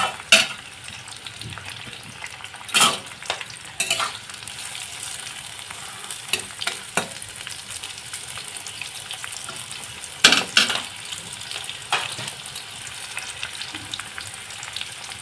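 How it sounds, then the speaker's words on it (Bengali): Capsicum and onion frying in oil in a pan while being browned, a continuous soft sizzle broken by repeated scraping stirs and occasional clanks of a utensil against the pan. "দিয়ে ক্যাপসিকাম আর এই পেঁয়াজটা আমি ভালো করে বাদামি করে ভেজে নেবো"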